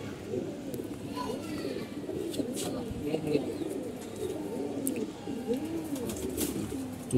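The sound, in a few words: pigeons cooing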